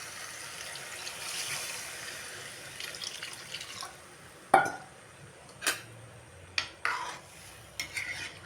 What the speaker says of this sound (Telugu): ఇదిగోండి ఇప్పుడైతే వాటర్ అయితే పోసేసుకుంటాను